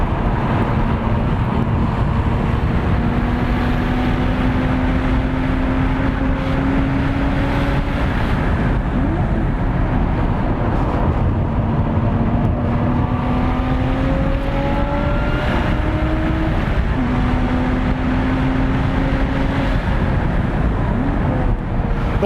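A 2018 Lotus Evora 400 engine drones continuously under strong wind rush while driving, its pitch rising and falling through repeated throttle blips and gear changes, with no talk.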